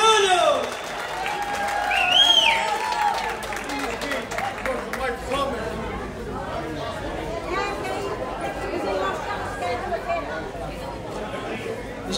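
A crowd at a live end-of-summer festival show in Évora claps and cheers, with whoops and shouted voices rising early, then sustained applause mixed with chatter and crowd noise throughout.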